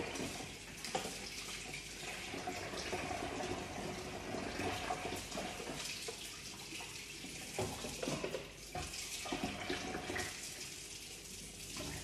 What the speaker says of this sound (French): Je rince juste le moule et je reviens vers vous.